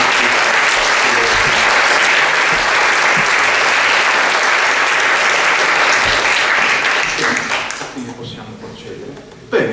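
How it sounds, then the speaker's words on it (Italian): An audience gives sustained, dense applause for the jurors at a final evening event, steady and loud for most of the stretch before thinning out near the end. "volevo chiedere da parte vostra anche un applauso ai nostri giurati"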